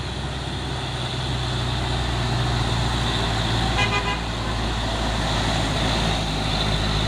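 Hino box trucks rumble past with a steady, loud engine drone, and a short horn toot sounds near the middle of the pass.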